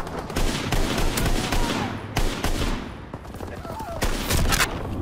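Rifle fire in a WW2 shooter game, loud repeated shots in quick bursts across the whole stretch, with someone talking over the gunfire.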